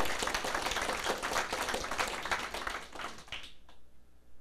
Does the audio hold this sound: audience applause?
yes